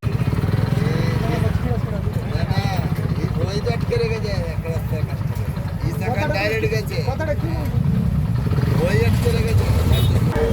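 A traffic jam at the Kalikapur rail gate in Kaliachak, Malda, with motorcycle and auto-rickshaw engines idling and revving up close in a continuous loud drone. People talk over the engine noise.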